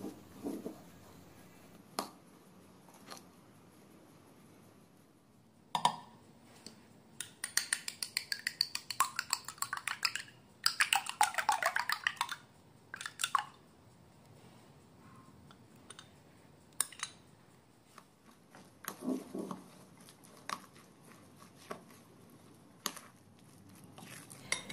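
Eggs stirred into grated cauliflower with diced green and red peppers, giving quiet intermittent clicking and tapping of a utensil against a bowl in scattered bursts, with stretches of near-silence between.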